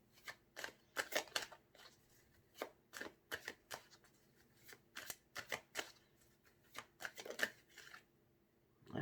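Tarot cards are shuffled in quick, crisp bursts of riffling and flicking, close and quiet, repeating in uneven clusters as a cross spread is laid out, with no talking.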